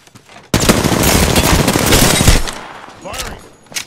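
Sustained rapid automatic gunfire rattles loudly in the Apex Legends video game, a dense burst of about two seconds after a quiet start, followed by softer fading shots and brief in-game effects.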